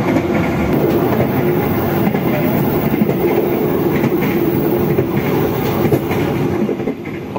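Inside a new-generation economy car of the Jaka Tingkir train, a loud, steady rumble of wheels and rails runs throughout, with faint rhythmic clacks and outside noise leaking through poorly sealed sections.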